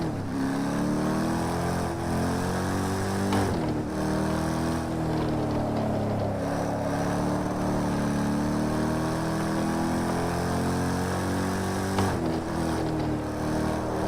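A Chevrolet Corvette engine in a racing video game drones steadily and loudly for the whole stretch, with its pitch shifting as it revs, dipping and climbing again through gear changes.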